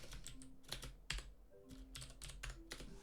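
Typing on a non-Mac computer keyboard plugged into a Mac: close, irregular plastic key clicks in quick bursts with short pauses, one louder keystroke near the middle, and no talking.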